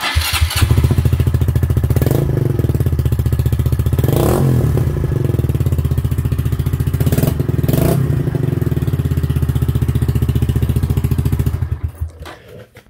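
A Honda CBR1000RR sport motorcycle with an aftermarket exhaust idles close by with a loud, throaty note, revs sharply several times, then shuts off near the end.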